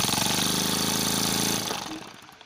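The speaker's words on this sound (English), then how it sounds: "Turn that in, the engine runs a lot slower." A homemade pneumatic piston engine chugs with rapid, even knocking pulses, close and loud, then slows and fades after its throttle screw is turned in.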